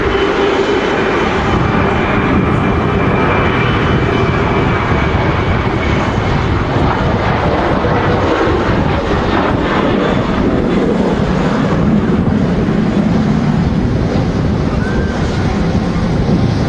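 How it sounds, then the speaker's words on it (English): Corendon Boeing 737 jet rolling for takeoff on a very windy day at Manchester Airport, a loud, steady engine roar heard from a distance and heavily mixed with gusty wind buffeting the microphone throughout. "Corridor 737 now rolling."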